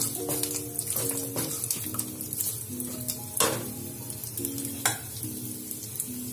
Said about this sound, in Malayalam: ഇനി അല്പം കാജു ചേർക്കുക, കാഷ്യൂനട്ട് ചേർക്കണം അതിനകത്ത്.